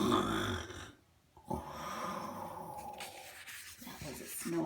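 A person imitates a loud snore with their voice while reading a Mr. Men story aloud, producing rough, rasping drawn-out breaths broken by a brief pause, close and fairly quiet.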